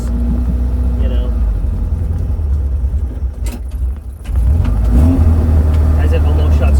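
An old car's engine runs low and rough, its revs sagging until it nearly stalls, then surging back louder, with a person talking over it.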